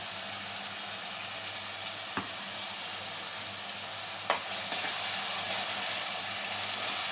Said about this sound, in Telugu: ఆ పేస్ట్ ఫ్రై చేయాలి.